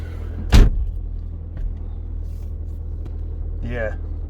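An old mustard-coloured car's engine cranks and catches with a sudden loud burst, then settles into a low, steady idle rumble nearby while a person briefly speaks.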